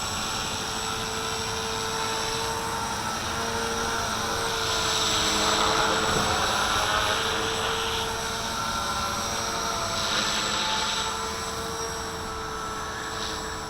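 Steady, loud whine of a V450D01 RC helicopter hovering outdoors in high wind, its rotor and motor tone holding continuously with slight swells and gusty roughness throughout.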